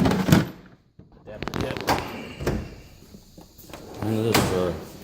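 Drawers of a Mac tool box slide open and shut with metallic clacks and rattling of loose tools, several sharp knocks over a few seconds while a person talks nearby.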